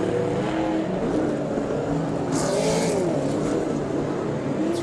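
Saloon race cars roar around a track during an evening race meeting, engines droning and shifting pitch as they pass at close range, loud and continuous without talk.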